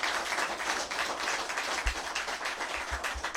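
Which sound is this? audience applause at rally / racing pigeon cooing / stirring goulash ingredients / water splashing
audience applause at rally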